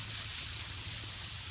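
A garden hose spraying water outdoors near mud, giving a steady, close hiss of spray that stays even throughout, with no voices.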